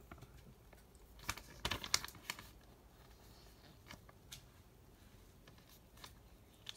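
Scissors snip and crinkle through the plastic wrapping of a sports fan pack in a brief cluster of quiet cuts, followed by faint rustles in a calm room.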